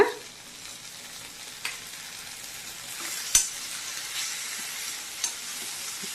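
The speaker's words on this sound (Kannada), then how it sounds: "ಇದೀಗ ಎಣ್ಣೆಲಿ ಫ್ರೈ ಆಯಿತು" Tomato masala for beans palya fries softly in oil, a quiet continuous sizzle with a few sharp utensil clicks and scrapes scattered through it, heard close with no talking.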